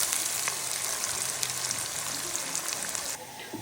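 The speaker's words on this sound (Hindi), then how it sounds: "ऑयल हमारा गर्म हो चुका है, हम प्याज डालकर इसको ब्राउन करेंगे।" Onions frying in hot oil until lightly browned for aloo bhujia, a steady dense sizzle throughout with faint scraping, no voices.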